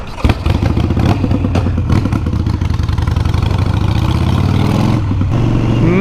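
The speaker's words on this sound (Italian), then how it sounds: "E noi ora mettiamo in moto." A Harley-Davidson Sportster 883 Iron motorcycle engine cranks and catches, then runs with a loud, close, throbbing idle and rattling mechanical clatter throughout.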